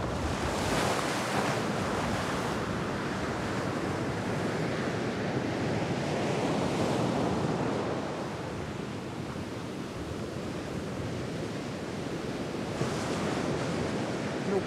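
Sea waves on the northeastern Brazilian coast at São Miguel do Gostoso break and wash up the shore in a continuous loud roar, with wind buffeting the microphone and gentle surges in intensity.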